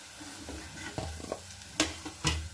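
Okra (bhindi) pieces frying and being tossed in a pan for a Telugu-style fry, with a steady close sizzle broken by a few sharp scraping stirs.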